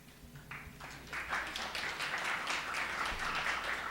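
Audience at a creative meetup clapping, a steady patter of many hands building and holding at moderate volume across the clip, no voices over it.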